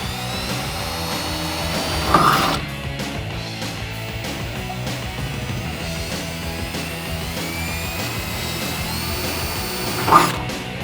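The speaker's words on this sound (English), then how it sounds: "Next, we're going to do a pilot hole on the other 2 holes." A power drill bores pilot holes for nutserts in the fender of a Jeep Wrangler JK, a sustained whirring motor drone close by, with two sharp louder bursts as the bit bites near the start and end.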